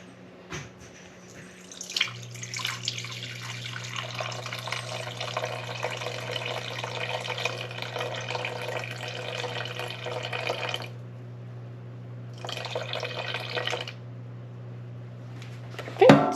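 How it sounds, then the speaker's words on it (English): Water streams from a tap into a bowl for sourdough bread dough, a steady splashing fill with a brief pause and a second burst over a low constant hum. "I'm going to add 350 grams of water"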